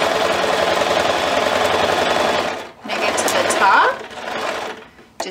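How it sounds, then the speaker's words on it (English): A sewing machine runs steadily and loudly as it stitches along the folded edge of a simple kids' apron, stops briefly, then whirs again in a shorter run, with a voice talking alongside. "I'm stitching right along my folded edge, all the way around."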